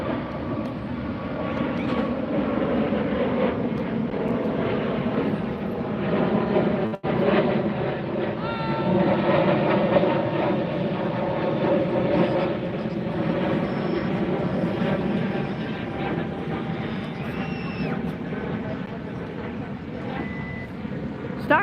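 A jet airliner departs from the south side of LAX at dusk near a busy beach, a steady distant rumble that holds for the whole stretch, with a faint beeping and background voices underneath.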